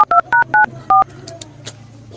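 Phone keypad dialing tones: five short, crisp electronic beeps in quick succession, then faint background noise.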